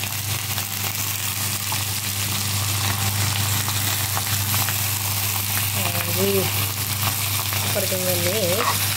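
Desi spices and coriander fry and sizzle in a pan for dosa potato filling, a steady broadband hiss with stirring throughout, while a voice briefly speaks near the end.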